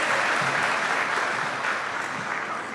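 A conference audience at an international agronursing event applauds a speaker, a dense wash of clapping that stays strong and then tapers slightly over a few seconds, with no voices.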